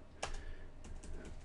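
A brief burst of typing on a computer keyboard as a command is entered on a Cisco ASA firewall: a sharp key click, then a short run of softer clicks, close and quiet.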